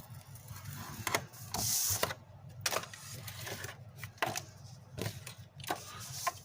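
Paper being scored with a scoring tool while making a craft treat box, with a series of sharp, close clicks and short scraping strokes at irregular intervals over a quiet background.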